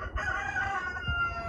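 A rooster crows in a sustained, loud, near call with strong harmonic bands, set against steady low outdoor rumble on a farm.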